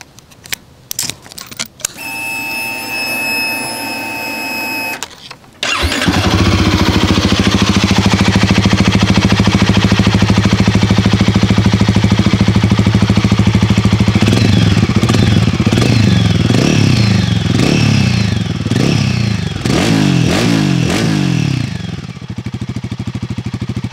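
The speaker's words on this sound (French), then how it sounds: "je vous fais écouter le bruit du moteur" Royal Enfield Guerrilla 450 motorcycle: a short starter whir, then the single-cylinder engine catches and idles loud and steady close by, with several throttle blips revving up and back down before it settles again.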